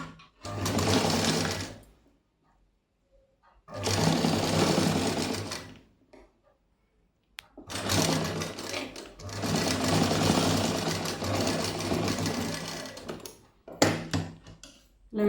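A sewing machine stitches fabric in three or four loud, steady whirring bursts separated by short quiet pauses while the cloth is repositioned.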